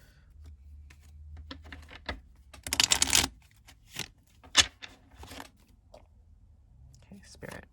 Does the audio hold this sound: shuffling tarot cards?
yes